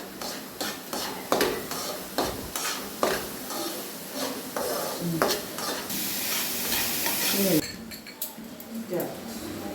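Garlic, green chili and curry leaves stirred in a hot pan for a Kerala-style curry, giving repeated close scrapes and clinks of a spoon against the pan over a continuous sizzle, with a few louder strokes near the end.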